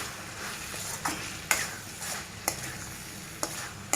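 Brinjal curry being stirred in a pan with chili powder, a spoon scraping in repeated strokes over a steady frying sizzle, each stroke a short crisp accent every half second or so.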